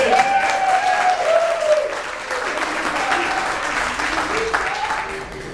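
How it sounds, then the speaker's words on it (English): Audience at a Modesto campaign barnstorm applauds Judge Pisa with loud, continuous clapping that is strongest early and eases slightly later, as shouting and talking voices ride on top. "Judge Pisa, a round of applause"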